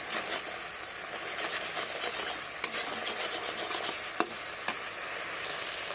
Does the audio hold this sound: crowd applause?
no